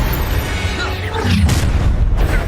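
A Confringo blast spell bursts in Hogwarts Legacy, a deep booming explosion with a low rumble that swells and lingers after about a second and a half, loud and close amid game sounds.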